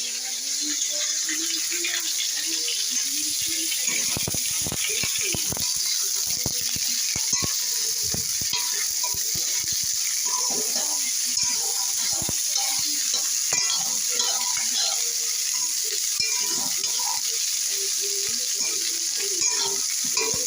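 Food fries and is stirred in oil in a kadai: steady close sizzling runs throughout, punctuated by repeated scraping and clinking strokes of a spatula against the pan.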